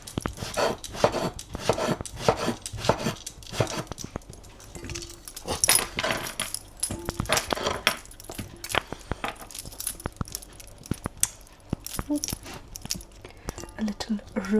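A knife cuts up aubergine and other vegetables on a board, giving irregular close knocks and taps scattered through with soft rustling, and a quiet voice comes and goes.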